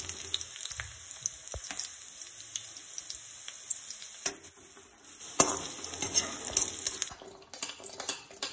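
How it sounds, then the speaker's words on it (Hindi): Cauliflower fries in a pan, a soft steady sizzle with occasional stirring clatters and scrapes, growing busier and louder toward the end, with no talking. "अब हम गोभी को फ्राई करेंगे।"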